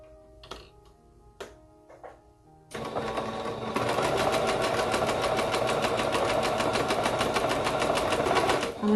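A sewing machine runs a 3.5 straight stitch on a knit romper. A few soft clicks and taps come first, then the motor starts and settles into a fast, even, rattling run that continues to the end.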